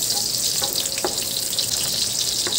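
Onions sautéing in a pan after garlic for a chicken liver and gizzard dish, giving a steady, close frying sizzle with a few light stirring clinks and no voices.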